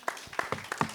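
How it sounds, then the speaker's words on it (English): A small audience at a panel discussion claps briefly, a few separate close handclaps in quick irregular succession. "Let's get another round of applause going."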